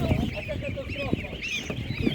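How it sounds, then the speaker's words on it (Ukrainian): Fowl cluck and call close by at a busy market stall selling ducks while a person talks over them, the bird calls scattered through the short stretch. "Великий вибір качок, оця качка більша трошки, бачите."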